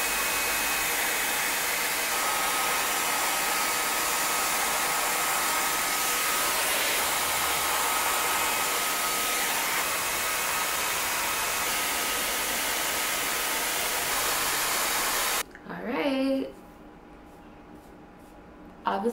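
A L'Brise Paris air styler blows steadily while curling hair, a loud continuous hiss that cuts off near the end, followed by a brief faint voice.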